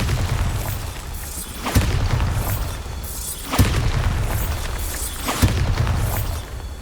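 Three booming spell explosions from the Bombarda curse in Hogwarts Legacy burst at steady intervals over a dense, rumbling game soundscape, each blast a loud sharp crack rolling into a low roar.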